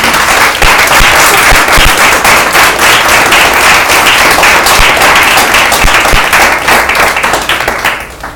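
A church congregation bursts into sustained, loud applause, dense clapping from many hands that holds steady for about eight seconds before tapering off at the end.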